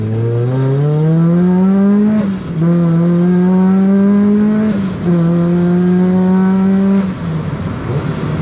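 A Rotrex-supercharged Mazda NB Miata engine revs through gears in a loud, close run of three rising pulls, each ending in a brief drop at the shift, ending as it eases off.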